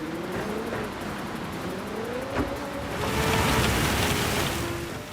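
Heavy rain hitting the track in the Gran Turismo 7 racing game, a dense broadband hiss blending with a race car's engine drone and gear shifts, the spray growing louder toward the end.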